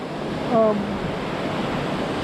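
Stormy ocean surf on the ocean side of Maui during a storm, a steady broad roar of waves and wind with a brief tonal sound near the start.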